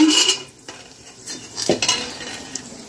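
Cinnamon, cloves and other whole spices fry in oil in a pot while a metal utensil clinks and scrapes against it, close clatters over a soft sizzle with no speech.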